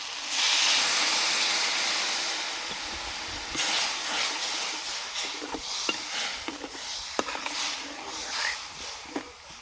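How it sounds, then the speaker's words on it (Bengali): A pot of fish curry gravy boils on the stove, giving a steady, close hiss with scattered small pops and bubbling that starts loud and eases slightly as it continues. "ঝোলটা ভালোভাবে ফুটে গেছে।"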